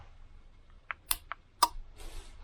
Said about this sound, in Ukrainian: спробуємо натискати кнопочки і слухаємо, клацають там релюшки якісь чи ні